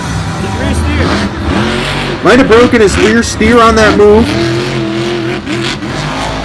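A Gravedigger monster truck, driven by Adam Anderson, at a Monster Jam Tampa 2020 stadium show, its engine revving and roaring loudly in surging bursts with crowd noise throughout, and a commentator talking over it.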